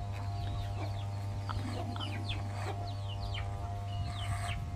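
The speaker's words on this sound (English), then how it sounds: "Oh, we got a lot of roosters here." Roosters and chickens on a rural rice farm in Ubon Ratchathani, Thailand, give faint clucks and short calls at a distance over a steady electrical hum.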